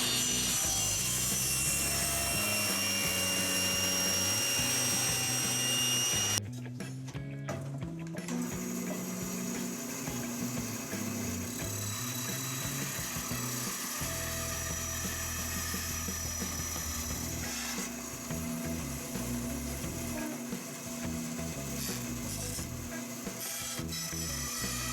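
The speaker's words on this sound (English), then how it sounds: "we're gonna do the initial cuts on the table saw" A table saw makes the first cuts on wood for a Viking-style chair seat, with a loud, steady whine and grinding that stays unbroken through the whole stretch after a short break early on, and no talking.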